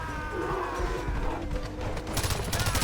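Machine gun fire in the video game Far Cry 4, a dense rattling fusillade of rapid shots with crashing impacts over a game soundscape, growing sharper toward the end.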